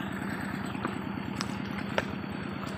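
A tractor engine in an Indonesian village runs steadily up close, a continuous low chugging drone with faint clatter, no voices over it.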